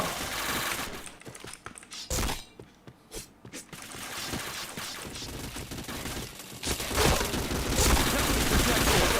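Rapid bursts of automatic gunfire crackle in a shooting video game, loud clusters of shots broken by brief lulls, with scattered sharp single reports between them.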